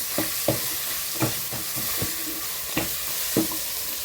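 Pork and egg hit a pan with fragrant dry-roasted spices, sizzling steadily while a utensil scrapes and stirs in a handful of sharp, irregular strokes; close and fairly quiet, with no talk.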